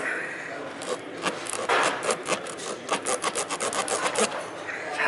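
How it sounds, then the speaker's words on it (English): A reamer tool is worked back and forth into a very small puncture hole in a tough tire, making irregular rasping, scraping strokes that speed up toward the middle and continue at close range without talk. "Well, maybe I gotta ream it a little more."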